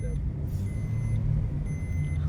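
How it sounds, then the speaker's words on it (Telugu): Inside a car on the road to Srisailam, steady engine and tyre rumble fills the whole stretch, with passengers talking over it. "కొడుకు ఏమో తిప్పుతున్నారు కారు."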